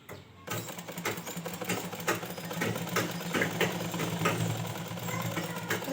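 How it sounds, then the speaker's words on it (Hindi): A sewing machine runs steadily while double-stitching a seam on an umbrella ghagra, its needle chattering in a fast, even rhythm, close and fairly loud, with no voices. "तो यहाँ पे मैं डबल सिलाई करके इसको लॉक कर देती हूँ अच्छे से"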